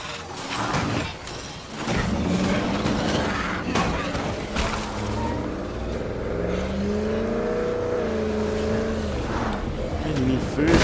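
A car in the zombie survival game State of Decay 2 drives with a steady engine drone and revving, rising and shifting in pitch, while a person talks over it.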